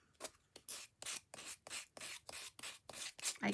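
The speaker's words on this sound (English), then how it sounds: "this is going to be a little bit harder to sand those edges off of because it's thicker" Sandpaper rubbed by hand over thick edges of a DIY Easter bunny decoration, about ten quiet, close, evenly spaced strokes with no voices.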